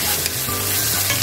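Mushrooms frying in a pan with ketchup as they are stirred, a steady close sizzle with brief scraping strokes and no talk.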